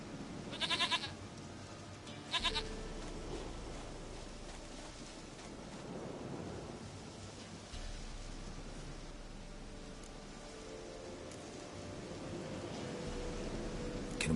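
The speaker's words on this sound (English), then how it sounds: "Goat of mine. Dearest, sweetest goat." A goat bleats in The Witcher video game, two short nasal cries early on, then quieter outdoor ambience with a low background hum.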